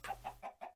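White chickens in a Genetic Animals mod farm game cluck in four short, close, evenly spaced calls with no talking.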